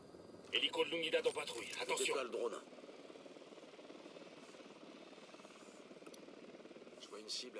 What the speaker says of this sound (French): Hélico de l'Unidad en patrouille, attention.